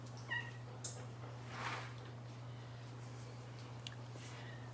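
A kitten meows a few times, short and fairly faint, over a steady low electrical hum in a quiet indoor room.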